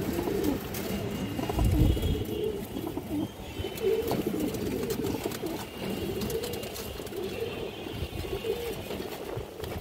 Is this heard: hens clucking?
no